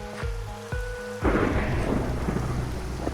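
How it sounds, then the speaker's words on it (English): Minecraft thunderstorm: a deep, loud thunder crack rolls in over steady rain hiss, following a few soft game tones, with no voices. "Oh yes, another thunderstorm."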